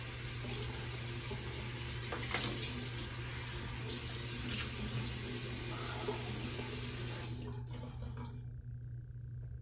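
Running water from a tap rinsing after a shave with a disposable or double-edge razor, a steady close, even rush that fills most of the clip and stops abruptly near the end.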